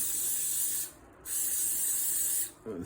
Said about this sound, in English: So spray oil, plenty of oil.